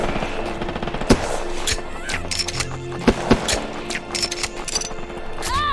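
Gunfire from shooting enemies in a biopunk video game, a few sharp loud shots standing out over a dense layer of game sound and music.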